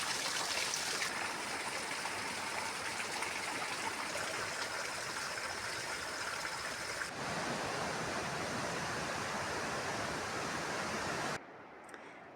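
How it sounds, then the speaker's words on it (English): A gigantic waterfall heard from a distance on a stormy camping trek, a steady, broad rushing roar that holds constant before briefly thinning near the end. "Gigantic waterfall in the distance."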